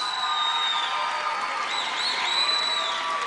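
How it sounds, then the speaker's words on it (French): Audience applause at a telethon, a steady wash of clapping from a crowd heard at moderate distance with no voices over it. "Oui, une bonne main d'applaudissements."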